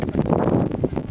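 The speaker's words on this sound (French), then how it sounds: "il y a un peu de vent" Wind blows steadily across an outdoor scooter-trick spot, a constant broad rush buffeting the microphone close up, with no talk.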